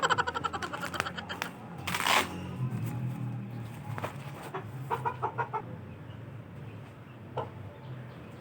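A rooster clucks in short bursts over steady background noise, with a louder squawk near the start and scattered clucks afterward.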